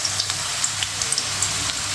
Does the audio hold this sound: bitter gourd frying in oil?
yes